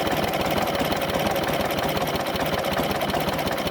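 A 1942 civilian Harley-Davidson Knucklehead motorcycle engine idles with its ignition retarded, a steady, close, continuous mechanical rumble with a dense, even pulse throughout and no talking.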